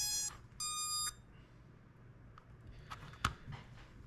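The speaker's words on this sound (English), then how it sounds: "Beeps." Small FPV racing drone electronics chirping through a short series of bright, evenly pitched beeps right after being plugged in, two distinct bursts near the start followed by faint clicks.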